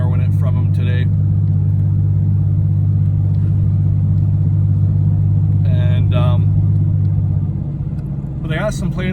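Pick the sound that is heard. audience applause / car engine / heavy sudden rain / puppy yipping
car engine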